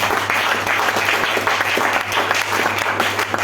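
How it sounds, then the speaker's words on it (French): A church congregation at a Sunday service applauds in steady, loud, dense clapping for several seconds, with a low hum underneath. "Est-ce qu'on peut acclamer le Seigneur"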